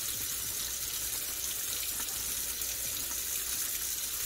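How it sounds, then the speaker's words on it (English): Tap water runs over a Revlon One Step dryer brush as its bristles are rinsed clean of lather and grease, a steady close hiss and splash that continues without a break and without voices. "You can put it under the water like this, keeping it angled this way."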